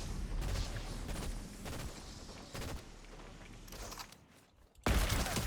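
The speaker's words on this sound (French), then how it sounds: "On tire dessus." Fortnite gunfire during a squad fight, scattered close shots and bursts with booming impacts, quieter in the middle before a loud blast near the end.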